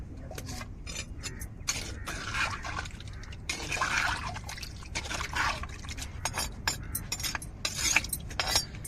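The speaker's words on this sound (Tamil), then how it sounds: "இப்போ நம்ம தேவையான அளவு தண்ணியும் சேர்த்துக்கிடுவோம்" Water pours and splashes into a pot of chicken curry in a steady, bubbling stream, close and moderately quiet, with small drips and gurgles throughout.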